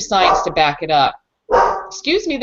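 A pet dog barks in short yips that break in around someone speaking, its sharp calls mixing with her talk.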